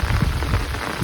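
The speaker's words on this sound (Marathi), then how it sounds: "बघा पाऊस चांगलाच पडतोय" Heavy rain pours steadily on a hillside, a dense, loud and continuous hiss of falling water with no voices.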